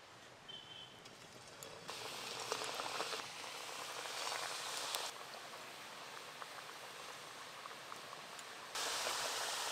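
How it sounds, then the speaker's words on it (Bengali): Stuffed yam koftas filled with hilsa fish deep-frying in plenty of hot oil, a steady bubbling sizzle that swells louder in stages and holds throughout, with no talking. "এবার কোপ্তাগুলো ভেজে নেব"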